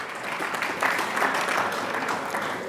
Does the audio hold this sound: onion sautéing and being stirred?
no